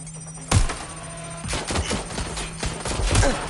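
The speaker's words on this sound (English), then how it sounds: "I'm taking fire!" Gunfire in Watch Dogs: Legion comes as a loud opening shot and then a string of close, sharp shots in irregular bursts, with no talking.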